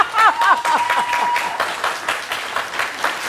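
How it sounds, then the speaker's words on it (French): Studio audience applause on a French live TV comedy show, a dense burst of clapping that starts strong and carries on steadily, with brief whoops or whistles early on. "Ça s'applaudit."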